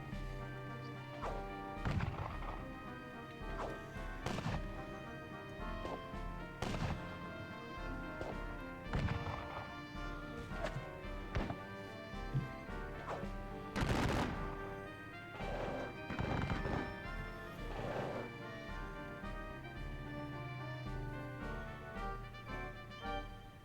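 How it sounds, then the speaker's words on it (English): Skirmish fire in the Napoleonic strategy game WDS Battle of Borodino, with repeated sharp musket-like cracks and thuds scattered irregularly over a continuous background bed, with no voices. "And then the usual skirmish fire."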